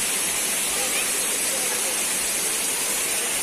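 Daranak Falls in Tanay, Rizal roars as a constant, dense wash of falling water, loud and close with no break.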